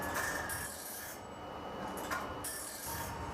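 A saw blade's teeth being sharpened with a file, rubbing and rasping in steady near strokes with short pauses between passes.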